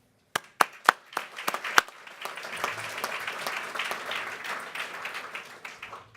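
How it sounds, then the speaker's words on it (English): An audience at an awards celebration night applauds a panel of judges, opening with a few separate sharp claps that quickly swell into a sustained, moderately loud round of applause. "I'd ask you to give them a hearty round of applause."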